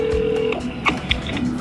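A telephone call to a hotel: a steady tone at the start, then a couple of short electronic beeps over a faint background hum.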